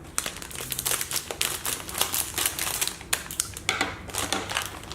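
Scissors cutting through a Kracie Popin Cookin Happy Kitchen Taiyaki & Odango candy kit package, with continuous close crinkling plastic and snipping, dense rustles and clicks with no pauses.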